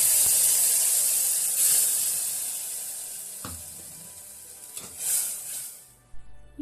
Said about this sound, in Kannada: ಒಂದು ಪಾತ್ರೆಯಲ್ಲಿ 1 ಸ್ಪೂನ್ ಎಣ್ಣೆ ಹಾಕಿ ಸಾಸಿವೆ ಮತ್ತು ಕರಿಬೇವಿನ ಸೊಪ್ಪಿನ ಒಗ್ಗರಣೆ ಮಾಡಿ ಇದರಲ್ಲಿ ರುಬ್ಬಿದ ಮಸಾಲೆಯನ್ನು ಹಾಕಿ.